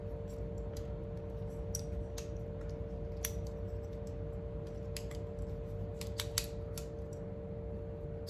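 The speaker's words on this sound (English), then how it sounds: "beautiful scissors" Repeated snips of the scissors on a Roxon Phantom S802 multi tool, sharp close clicks in irregular bursts over a steady low electrical hum.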